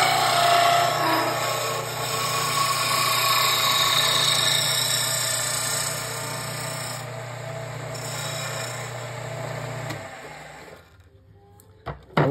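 Blackwood spinning on a wood lathe as it is turned, a steady motor hum with broadband cutting noise and a vibrating chatter, continuous and close for about ten seconds before the machine winds down and goes quiet.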